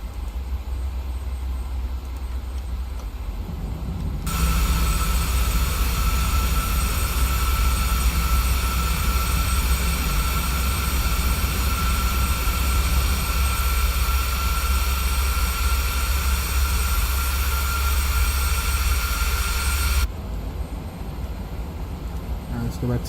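A PMDG Boeing 737-8 in WestJet livery lands in Microsoft Flight Simulator 2020, with a loud, steady roar of engine and rollout noise filling most of the stretch before dropping back to a quieter cabin hum.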